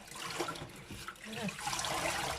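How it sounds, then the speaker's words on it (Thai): Spider flower leaves being rinsed in clean water, a soft steady trickle and splash of water close by with light handling noise, no talk. "เราก็มาล้างเขาด้วยน้ำสะอาดก่อนนะคะ ล้างสิ่งสกปรกเขาออกก่อนนะ"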